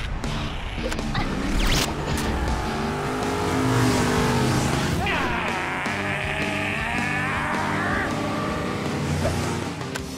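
Revving, accelerating race car engines in a Hot Wheels City cartoon chase, with a loud whining engine pitch sweeping up and down over busy background effects, and brief talk at the start.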